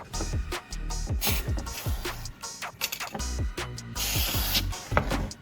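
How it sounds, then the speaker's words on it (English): Several short bursts of WD-40 aerosol spray onto a circuit board hiss in quick succession, close and fairly loud, with gaps between some of them. "I'm going to spray some WD-40 onto the circuit board and clean the surface"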